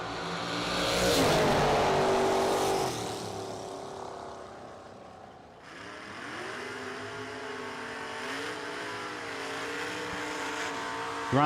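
Drag racing cars launch from the starting line at a no-delay nationals event, a loud roar swelling then fading, followed by a rising engine whine that holds steady at a distance.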